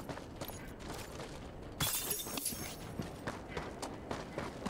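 Objects shattering in the Helldivers 2 video game, a sudden bright crash of breaking with scattered clattering impacts and game noise continuing around it.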